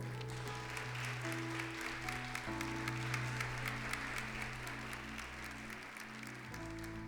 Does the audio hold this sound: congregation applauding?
yes